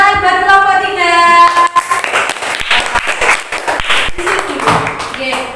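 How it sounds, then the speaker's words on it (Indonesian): Classroom clapping for a student group during a teaching session, broken and uneven after an opening stretch of voices, with people talking over parts of it. "tepuk tangan buat kelompok 3"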